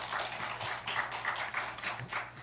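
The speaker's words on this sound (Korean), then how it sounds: "발표자를 박수로 맞아주시기 바랍니다" An audience at a Korean university forum applauds as a presenter comes up to speak, a moderate, steady patter of many clapping hands in a hall with a faint low hum beneath.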